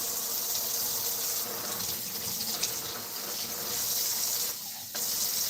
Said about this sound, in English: Gonna add a little bit of water.